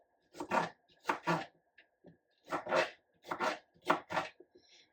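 A knife roughly chops ingredients on a cutting board for coconut curry chicken, about six or seven separate close, firm strikes in an uneven rhythm with short pauses between them.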